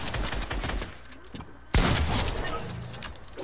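Bursts of assault rifle fire in a video game, with rapid repeated shots and a sharp loud blast midway, close and dense over game noise, with faint voice chatter underneath.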